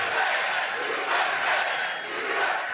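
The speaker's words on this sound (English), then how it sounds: "This is a big, beautiful crowd." A large crowd at a political rally for the former president roars and cheers in a dense, steady wash of voices for about three seconds, with no single speaker standing out.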